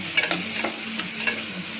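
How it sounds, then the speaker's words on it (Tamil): Green chillies and tomatoes sauté in a pan for peanut kurma, a close sizzle broken by quick stirring scrapes and light utensil taps, with no talking. "நல்லா வதக்கி விட்டுருவோம்."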